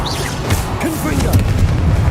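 A Confringo fire spell bursts in Hogwarts Legacy combat, a booming blast over dense battle noise with short whooshing and popping effects, loud and close throughout.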